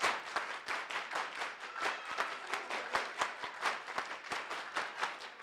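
A group performing a soul clap rhythm at a Giwayen Mata APS performance, with fast, even, repeated claps in a steady pulse, loud and close.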